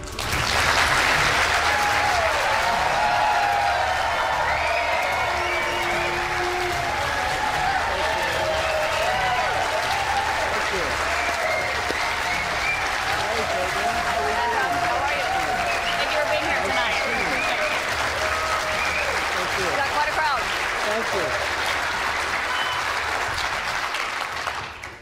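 Sustained, loud applause and cheering from a large crowd at a CNN town hall in New Hampshire, steady for about 25 seconds, with a raised voice or two audible over the clapping.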